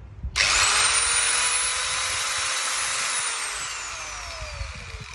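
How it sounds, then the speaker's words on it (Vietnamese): A cheap electric angle grinder rated at 12,000 rpm starts sharply with a high whine, runs loud and steady close by, then spins down and fades as it coasts to a stop. "Máy chạy cực kỳ êm luôn các bạn,"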